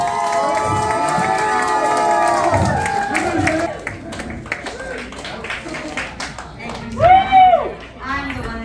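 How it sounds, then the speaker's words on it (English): An audience shouts and cheers with some clapping, loud excited voices and whoops overlapping in bursts, with a sharp peak of yells near the end. "round of applause."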